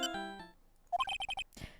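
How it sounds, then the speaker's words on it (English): A phone ringtone in the Ace Attorney game ends with a sustained synth tone, then a quick run of five bright, evenly spaced electronic beeps, close and alone. "Wait, this ringtone is awesome!"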